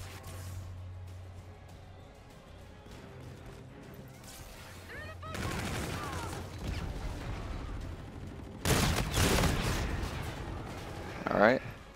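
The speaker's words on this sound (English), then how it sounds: "Okay, yes, it is a burst weapon." R3K three-round burst weapon firing in Infinite Warfare: loud sharp bursts of gunfire with crashing impacts, strongest in a dense volley near the end, under mixed game noise.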